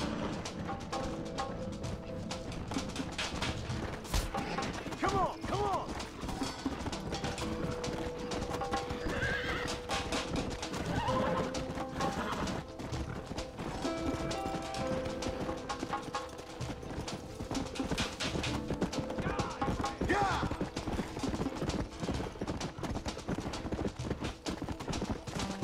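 Horse hooves clip-clopping in Red Dead Redemption, a continuous rhythmic beat of galloping with occasional whinnies, layered over busy game sound and music throughout.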